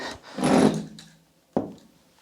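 A bolt-action rifle's bolt is worked in a barricade shooting setup, a long sliding rub followed by a sharp metallic clack as it closes, close and alone.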